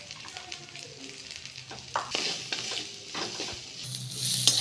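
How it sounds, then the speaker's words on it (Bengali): Chopped raw mango stirred with chili powder and spices in a hot pan, giving a steady sizzle with scraping spatula strokes that grow louder and busier toward the end; no voices. "এবার দিয়ে দিচ্ছি লঙ্কার গুঁড়ো, একটু ভালো করে কষিয়ে নেব।"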